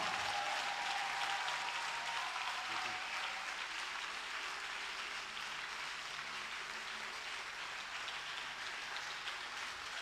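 A church congregation applauds during a lively French-language worship service, dense sustained clapping that fills the room at an even, steady level throughout.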